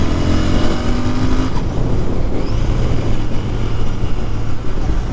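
A Royal Enfield Interceptor 650 motorcycle accelerates to high speed, its engine droning loud and steady beneath heavy wind rush, recorded from on the bike.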